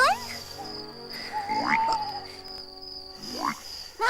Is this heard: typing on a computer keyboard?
no